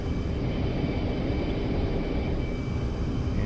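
Engine drone of a large airplane in the DCS flight simulator, a steady broadband roar that holds at the same level throughout with no talk.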